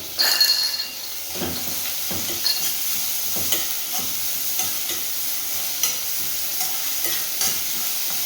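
Onions and tomatoes fry in a pan while being stirred, giving a steady close sizzle broken by repeated scraping stirs and light clinks, with no talking.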